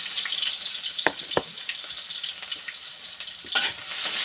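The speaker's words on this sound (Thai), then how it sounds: "เกี่ยวหอมกับกระเทียมให้เหลืองๆ" Shallots and garlic fry in a pan with a steady broadband sizzle, broken by a few sharp clicks and scrapes of stirring, close and moderately loud with no talking.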